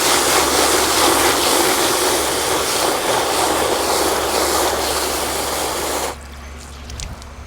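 Loud, steady rush of water filling a bucket and foaming car wash soap, a continuous close hiss for about six seconds, then it cuts off to quiet handling noises.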